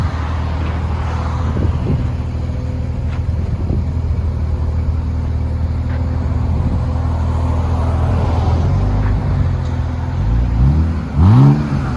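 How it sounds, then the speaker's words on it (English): A BMW 328i with a 3.0L inline-six and the rear muffler removed idles with a low, steady exhaust drone, then briefly revs near the end with a rising, throaty pull. "Rear muffler delete."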